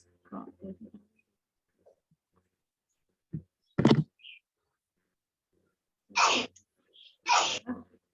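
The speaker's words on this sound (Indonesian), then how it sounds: "Aduh, dia bersin ya rahmatullah" A person sneezes twice in sharp, fairly close bursts, with brief muffled movement sounds before them and otherwise quiet surroundings.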